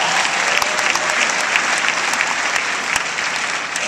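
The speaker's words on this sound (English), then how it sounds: "Can you give a big round of applause for Cammie?" A big audience at a convention keynote applauds loudly and continuously, a dense wash of clapping with occasional sharper claps standing out.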